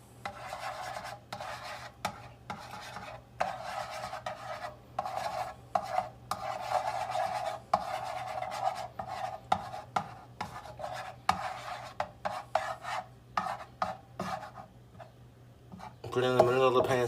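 A spatula scrapes and stirs cayenne pepper seasoning around a pan in quick, repeated rasping strokes, close and crisp, with a faint low hum beneath and a brief sizzle near the end.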